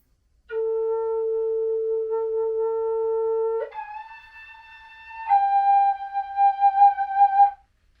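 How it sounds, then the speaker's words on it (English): Linden Native American flute playing a held low A, then a softer jump up to the octave A and a step down to the G below it, three breathy sustained notes, clear and close, alone. "that's the low A, and then jumping up to the octave A and the G right below it"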